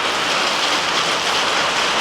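Heavy rain pours down in a dense, even hiss that stays loud and close with no pauses or voices.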